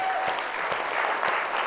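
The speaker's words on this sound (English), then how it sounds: "So a big round of applause to NCC." A panel discussion audience breaks into a short burst of lively, continuous clapping, close and fairly loud.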